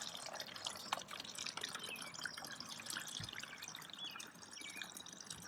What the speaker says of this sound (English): we're going to fill this with water, okay, and we're going to do that using the funnel